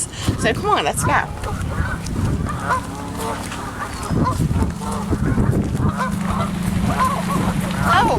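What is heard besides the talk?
geese honking and quacking as they take off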